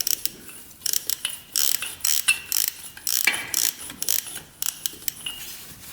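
A ratchet wrench works a head bolt on a 500cc two-stroke motorcycle, giving bursts of sharp, close metallic clicking in quick runs separated by short pauses, with no voices.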